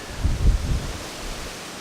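Strong wind blowing through trees during a storm at Scott AFB, a steady broadband rush with low rumbling gusts, close to the microphone and with no voices.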